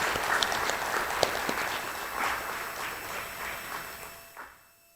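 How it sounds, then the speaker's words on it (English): A civic audience at a city address gives a quiet, distant round of applause, scattered claps that swell briefly and then fade out toward the end. "feel free to give them again a round of applause"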